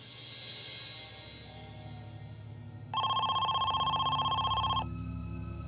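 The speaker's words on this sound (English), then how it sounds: "They hoped this would be the call that could secure Amy's release" An incoming call sets a telephone bell ringing; after a low murmur of background music, a single loud, steady electronic ring bursts in and holds for about two seconds before cutting off.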